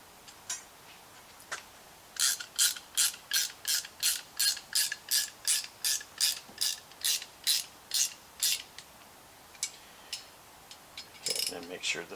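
A wrench ratchets on a steel brake line fitting being tightened, a quick even run of about twenty sharp clicks, close and distinct, with a few scattered handling clicks around it.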